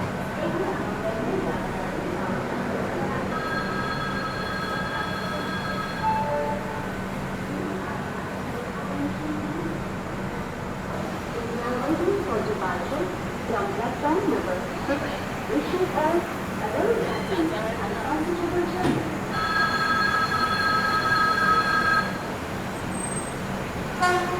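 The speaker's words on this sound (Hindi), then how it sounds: "डिपार्चर हो चुका है अपनी गोवा संपर्क क्रांति का पनवेल रेलवे स्टेशन से" Goa Sampark Kranti Express pulling out of Panvel railway station, with a steady rumble of the moving train and two long horn toots, one early and one near the end, under background chatter.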